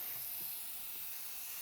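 Spray bottle misting water onto a car window during window tint installation, a steady soft hiss running through the short moment, close and fairly quiet with no talking.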